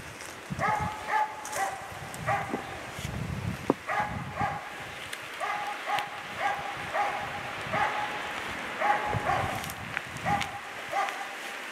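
A Jämthund barking at a bayed moose during a hunt in a forest by the edge of a small lake, repeated bursts of sharp barks at a fairly regular rhythm, heard from a middle distance over rustling and wind.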